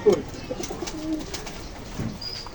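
Pakistani high-flyer teddy pigeons give a short, soft coo near the start, followed by a few faint murmurs over quiet background noise.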